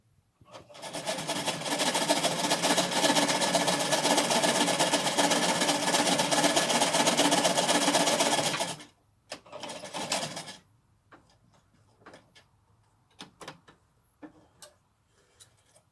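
A sewing machine runs loudly and steadily for several seconds stitching a cotton mask, stops, whirs briefly again, then leaves only scattered clicks and handling noises.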